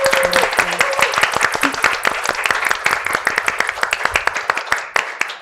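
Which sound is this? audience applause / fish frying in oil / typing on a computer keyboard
audience applause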